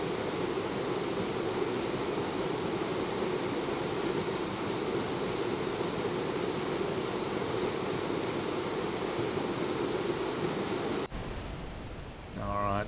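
A small waterfall at Berry Springs near Darwin pours in a constant broad rush of water, loud and unbroken for most of the stretch before cutting abruptly to quieter ambience near the end.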